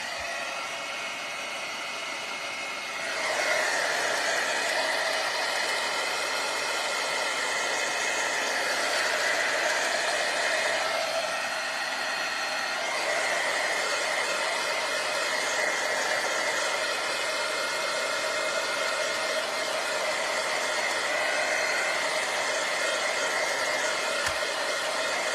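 A hair dryer or heat tool drying a scrapbook page, its steady whirring blow switching on after a few seconds and running continuously at a moderate level, with a brief dip in tone partway through.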